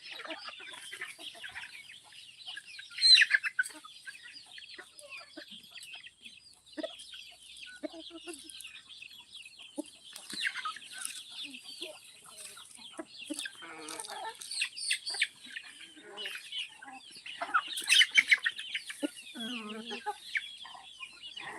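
Free-range desi chickens on a poultry farm cluck and chatter continuously at a moderate distance, with a few louder, sharper calls standing out from the flock.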